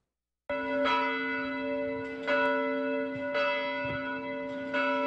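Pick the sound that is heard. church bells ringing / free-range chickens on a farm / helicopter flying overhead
church bells ringing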